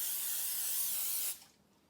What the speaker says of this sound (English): we're just going to spray each one with Pam